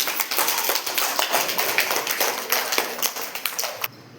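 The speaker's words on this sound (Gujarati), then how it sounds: "તાળીઓ પાડી દો." A group of people at a village spoon game claps steadily for a few seconds, dense close applause that stops abruptly near the end.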